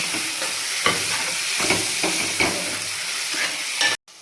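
Garlic and ginger sizzle in a pan with softened tomatoes, a steady close frying hiss broken by several soft stirring scrapes, ending in a sudden cutoff.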